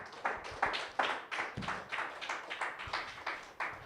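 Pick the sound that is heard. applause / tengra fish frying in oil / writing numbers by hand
applause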